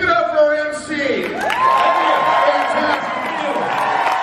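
A convention crowd at MegaCon cheers and whoops for the MC, loud sustained shouting and applause filling the hall, with a voice ringing out over the noise.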